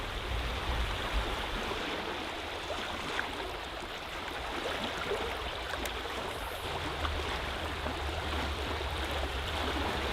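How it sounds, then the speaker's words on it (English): A small creek near a river mouth, fished for pink salmon, runs steadily as a broad, even wash of flowing water throughout with no break, fairly soft and close. "We're still on the little creek though."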